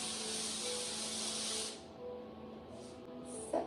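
A steady hiss of cooking spray into an aluminum tin for about two seconds, then quiet with a few brief short bursts and a small clink at the end.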